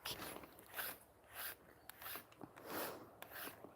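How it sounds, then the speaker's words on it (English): Two pets' fur being brushed: faint, rhythmic rasping strokes repeat about once every half second, close and quiet, with no talking. "Just doing a quick brush of these two"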